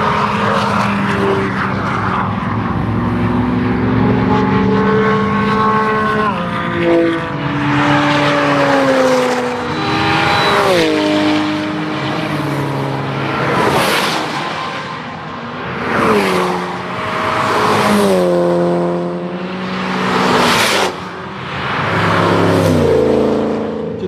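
Race car engines roar at a circuit in Lurcy-Lévis where a white Lotus Elise runs, loud and close, with rising and falling revs and repeated gear changes as cars pass one after another.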